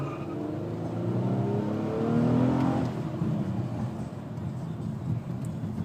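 A 2012 Nissan Maxima accelerates hard from inside the cabin, its engine note climbing steadily in pitch to a loud peak before easing back into a steady drone, with no talking over it.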